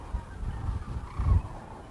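Geese honking at Merced National Wildlife Refuge in late January, a few deep, rough honks close by against a low rumble of wind.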